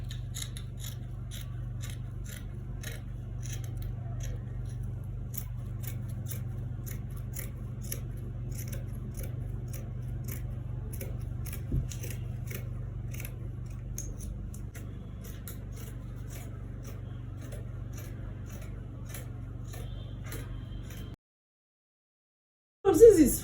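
Scissors cut out the front pattern piece for a bustier gown with a Queen Anne neckline, a quiet, continuous snipping and rubbing over a low steady hum that drops to brief silence near the end before a short bump.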